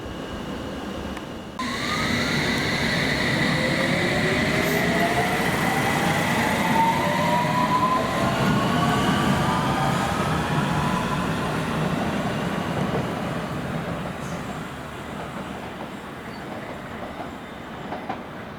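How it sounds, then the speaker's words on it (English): A metro train at Upminster Station on a winter's afternoon runs along the platform with a steady roar and clatter from the wheels and rising motor whines, loud and sustained for most of the clip. "To run a metro train, like this type here, into a countryside area or a suburban town."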